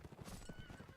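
Many horses gallop together in a competitive video game match, a dense, rapid clip-clop of hooves with an occasional neigh, steady and fairly loud for the whole second.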